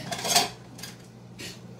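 A metal pot lid clinks and rattles while being picked up and handled in a kitchen, with three short bright metallic knocks, close and clear, and no talk.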